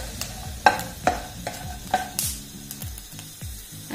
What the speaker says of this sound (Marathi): गरम मसाला घेतलाय मी, त्यामध्ये 2-4 लवंग आणि काळे मिरे आणि 1 साधारण मोठी विलायची घेतली आहे, ते पण मी यामध्ये याच्यासोबत खोबऱ्यासोबत भाजून घेते